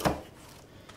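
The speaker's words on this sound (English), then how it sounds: "take a good old cabbage, chop it in half, get rid of the outside leaves, cut in quarters" One sharp chop of a knife through a cabbage on a board, cutting it into quarters, a quick crunch that fades fast and is followed by quiet room tone.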